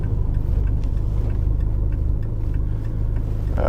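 A Lotus Esprit S1, a restored barn-find car, idles at a stop with a steady low engine rumble and faint whir from inside the cabin, holding constant throughout with no talk.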